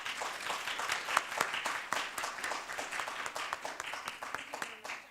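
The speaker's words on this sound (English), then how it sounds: "Let's give her a good hand of applause." An audience claps steadily in a hall, a moderately distant, even wash of many hands that continues throughout without fading.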